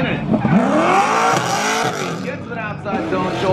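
A Formula Drift Pro2 car slides through an outside zone at a Texas competition, its tires squealing loudly and continuously under the engine's roar while a commentator talks over the action.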